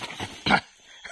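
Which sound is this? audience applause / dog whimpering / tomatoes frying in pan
dog whimpering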